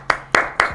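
Three sharp hand claps in a steady rhythm, close and distinct, heard from an audience, with no talk.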